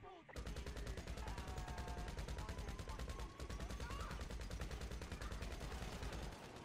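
Rapid, continuous gunfire from a GTA 5 game session during an Area 51 raid, a dense burst of shots sustained for several seconds at steady loudness with a voice heard briefly beneath it.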